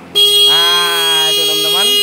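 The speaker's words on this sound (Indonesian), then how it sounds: "Kalau ada orang atau pencuri maling yang mau ngontak motor kita, bunyi teman-teman ini ya." A homemade anti-theft alarm on a motorcycle blasts the horn, starting abruptly and continuing as a loud, steady electronic tone close by, with a voice talking over it.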